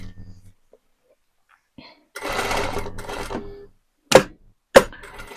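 A pedal-controlled sewing machine with automatic backstitch and thread cutting stitches a quilt in a burst of about a second and a half, followed by two sharp mechanical clunks. Quiet handling noises come before it.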